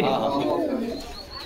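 Pigeons coo in a close, loud burst at a pigeon sale in Bangladesh, with the low rolling calls mixed under people talking nearby.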